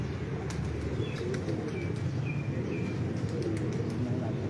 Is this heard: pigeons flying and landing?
yes